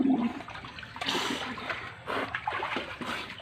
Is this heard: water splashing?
yes